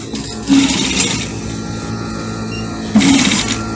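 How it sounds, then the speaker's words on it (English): A sewing machine stitches fabric for a kids' peplum dress in two short whirring bursts, separated by a steadier low motor hum, close and fairly loud. "So now we start sewing."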